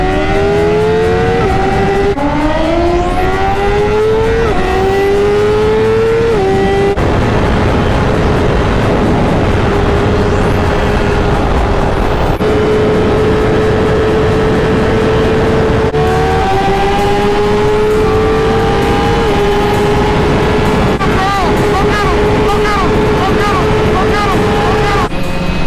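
BMW S1000RR and Honda CBR1000RR sport motorcycles on a highway speed run, engines screaming loud and close as they climb through gears in repeated rising sweeps, with wind roar throughout.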